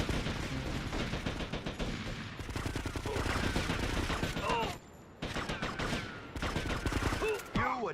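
Gunshots in GTA: Vice City Stories ring out as continuous rattling automatic bursts, close and loud, briefly pausing before resuming, with game effect sounds mixed in.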